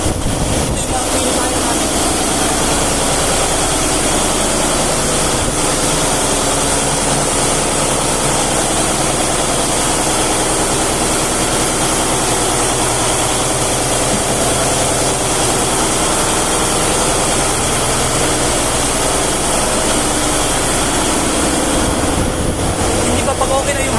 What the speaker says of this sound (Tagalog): Nakakarga na tayo ng air compressor.